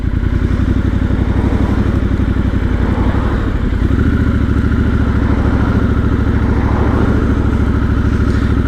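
A Triumph Scrambler XC motorcycle rolls along at low speed with the clutch half in, its engine close and loud with a steady low rumble and rapid thumping pulses.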